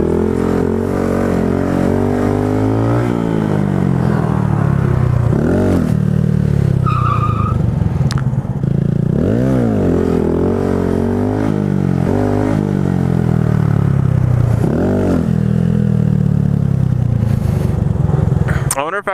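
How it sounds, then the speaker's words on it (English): Motorcycles revving repeatedly in a stunt lot where kids are doing wheelies, with engines rising and falling in pitch through the whole stretch and people talking over them. "you got a bunch of kids doing wheelies"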